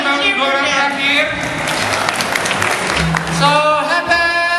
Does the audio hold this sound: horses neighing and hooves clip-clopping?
no